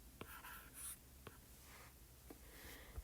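A pen writes a math equation on paper, faint scratchy strokes in short bursts separated by soft taps, quiet and close with no talking.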